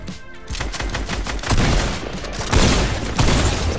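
Point-blank gunfire in Fortnite: rapid, loud bursts of shots fired close up, overlapping into a dense volley with a couple of stronger surges.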